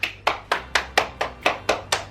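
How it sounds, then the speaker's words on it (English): Nine sharp hand claps ring out at a steady, even rhythm, close and alone in a quiet room with no talking over them. "Can we get a round of applause?"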